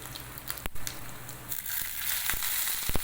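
Urad dal and green chillies frying in a pan over low heat, a soft close sizzle and crackle with a few sharp pops and rustling stirs.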